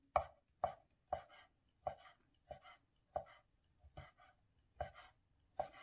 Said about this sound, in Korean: 그래서 가늘게 채 썰어요.